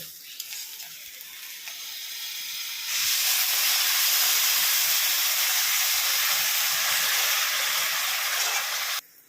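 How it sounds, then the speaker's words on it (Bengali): Water poured into a hot pan of broken rice with coriander powder erupts into a loud, steady hiss and sizzle that holds for several seconds before cutting off abruptly. "এবার পরিমাণ মতো জল দেব।"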